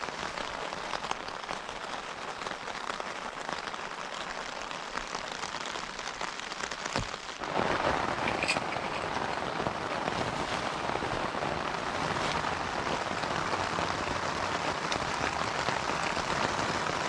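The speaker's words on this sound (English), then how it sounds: "it's still raining" Heavy rain drums on a Hilleberg Allak 2 tent at a wild camp in the Lake District, a dense steady patter heard from inside that grows noticeably louder partway through, with no talking.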